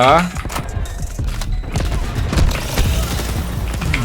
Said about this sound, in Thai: ยิงเราเหรอเพื่อน เพื่อนยิงเราเหรอ